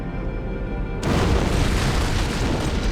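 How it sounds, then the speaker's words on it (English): An antimatter charge detonates aboard a starship in Halo: Combat Evolved, bursting in suddenly after a quiet hum as a loud, broad roaring blast that keeps rumbling steadily to the end, with no voices. "I'd guess an antimatter charge."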